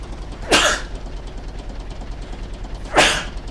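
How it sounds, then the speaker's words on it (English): Two sharp sneezes, close and loud, separated by a couple of seconds of quiet background hum. "Oh, I'm going to sneeze."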